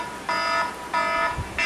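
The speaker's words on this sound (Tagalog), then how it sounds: "Alarm! 6 o'clock na!" An alarm clock going off at six in the morning, sounding in repeated harmonic electronic beeps, each burst lasting about a third of a second with short gaps between, fairly loud and alone.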